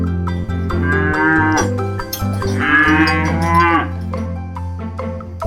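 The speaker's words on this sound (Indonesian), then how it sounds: "sapi." A cow moos loudly and close by in two long, drawn-out calls, with a steady low rumble running underneath throughout.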